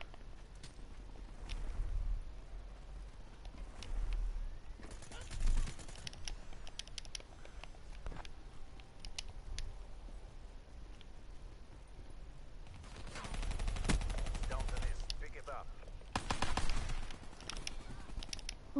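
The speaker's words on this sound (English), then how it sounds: "shoot him with a whole clip of Kuda, doesn't die" Kuda submachine gun fire in Black Ops 3, coming in dense rapid bursts that swell and fade across the stretch, fairly quiet and mixed with other game noise.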